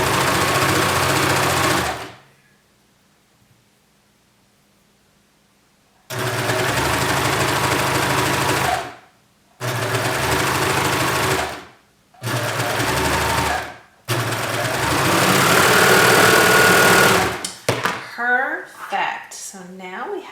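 A home sewing machine stitches the side seam of an Amelia shirt in loosely woven fabric, running in several loud, steady bursts separated by pauses, with a silent gap near the start and brief handling noises at the end.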